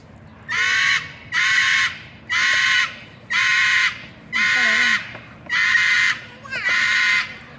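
Seven loud, harsh parrot screams in a steady series at a zoo, each about half a second long with short gaps between, close and piercing.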